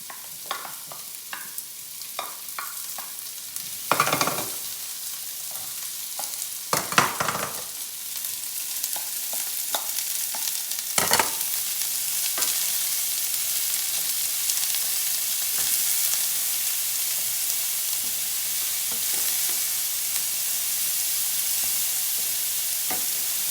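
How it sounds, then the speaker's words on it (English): Zucchini, onions and carrots fry in olive oil in a pan for a stir fry, with a few loud stirring scrapes and clatters early on, then a steady, close sizzle and hiss with no talking. "add the remaining tablespoon of olive oil, and you're going to add your zucchini, onions, and carrots and cook for about 5 to 7 minutes"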